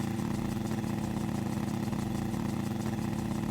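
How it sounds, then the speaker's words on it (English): In Microsoft Flight Simulator, a small two-stroke ultralight engine revs with a steady, buzzing drone like a lawn mower, continuous and close. "Little two-stroke engine is revving up like a lawnmower on crack."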